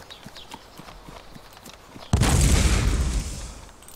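A grenade blast in the DayZ video game erupts as one loud, sudden boom after a stretch of quieter scattered noise, then a rumbling roar that slowly fades away.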